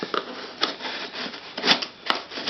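Close scraping and snipping of scissors working through cardboard, uneven strokes with a few sharper cuts.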